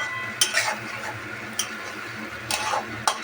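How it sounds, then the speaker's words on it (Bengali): Vegetable curry with pointed gourd is stirred as it fries in plenty of oil, giving a steady low sizzle broken by four sharp clinks of a spoon against the pan. "তাও একটু আমি ভেজে দেবো"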